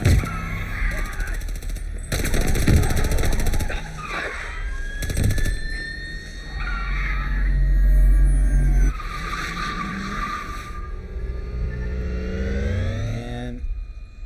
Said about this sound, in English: Here it's gunfire